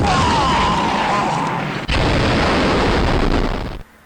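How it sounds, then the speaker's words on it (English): A loud, sustained explosion effect with a sharp burst followed by a long roaring rumble, cutting off abruptly near the end. "the explosion sound may happen just a little bit too late now"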